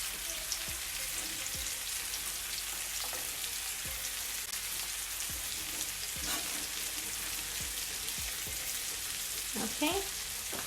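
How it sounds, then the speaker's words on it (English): Chopped shallots sizzle in melted butter in a pan, a steady crackling fry, with occasional clinks and scrapes of a utensil and brief faint vocal sounds in the background. "So now that my butter is melted, I'm now going in with my shallots."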